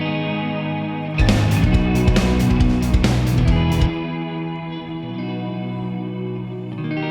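A distorted electric guitar cover plays with wide stereo reverb, a loud sustained chord burst swelling into a washy tail that lingers and fades, with no voices.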